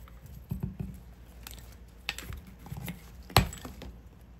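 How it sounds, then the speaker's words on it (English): Mitering shears cutting pumpkin stems give a few soft clicks and rustles, then one sharp, close snip, with no talking. "So I'm gonna use my mitering shears"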